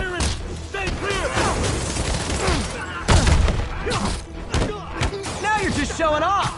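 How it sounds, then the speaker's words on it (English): Gunfire in a PS4 video game, with repeated shots and booming hits layered under game music and character voices calling out, loud and dense throughout. "Look out! Firing! Stay clear!"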